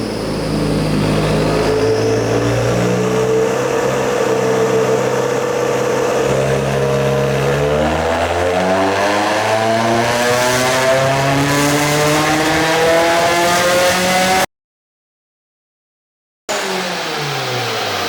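A Subaru WRX engine revs hard on a dyno, with loud rising harmonic sweeps as it climbs through the gears at full throttle, then cuts off abruptly into a brief silence before the engine drone returns.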